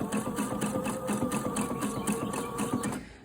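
Sewing machine stitching delicate fabric along a 3/8-inch seam of homemade panties, a steady rapid mechanical chatter running close and loud for about three seconds before stopping abruptly.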